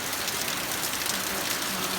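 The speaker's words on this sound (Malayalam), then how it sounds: "ഇപ്പം നല്ല മഴയാണ്" Heavy rain pours down and splashes off a roof edge in a dense, steady hiss close by that continues without a break, with no talking.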